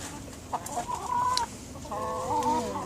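Chickens clucking in a rising, drawn-out series of calls in an organic fruit garden, fairly close, with a brief sharp squawk partway through and low background noise.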